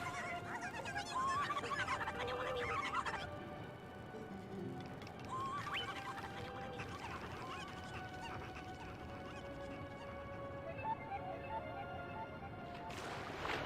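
Chickens clucking in The Legend of Zelda: Twilight Princess, a busy stretch of fowl calls over a steady game backdrop with sustained tones, louder in the first few seconds and continuing throughout.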